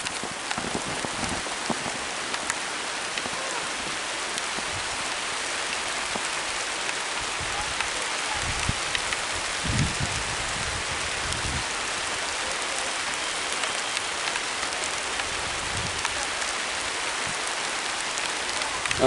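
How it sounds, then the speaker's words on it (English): Light rain falls steadily outdoors among young fig trees in mid July, a continuous soft hiss of drops pattering on leaves and surfaces, with a few slightly heavier splats, and no talking. "Alright, time to get out of the rain."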